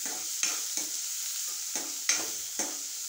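Mixed vegetables sauté in a pan with a continuous soft sizzle, broken by several sharp stirring scrapes at irregular intervals; close and moderately loud, with no speech.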